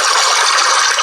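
A river sound played from a smart ring meditation app: a loud, steady rush of flowing water with no voices.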